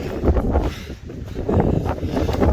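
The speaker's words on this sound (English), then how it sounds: "That wind has picked up big time." Strong gusty wind on the Appalachian Trail near Route 302 toward Lake of the Clouds Hut roars across the microphone in loud rumbling surges, easing briefly about a second in before building again.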